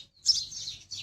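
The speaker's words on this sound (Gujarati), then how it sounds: "ચકલી આગી આગી ભાગતી જાય ને ઉડાડતા શીખાડે" A sparrow gives a quick, close pair of bright high chirps while teaching its chicks to fly, with faint low rustling underneath.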